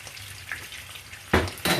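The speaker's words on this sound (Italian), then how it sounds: "La salsiccia la lasciamo soffriggere ancora un po'." Sausage frying in a pan with a steady low sizzle, then two louder bursts of sizzling near the end as the pieces are stirred or turned.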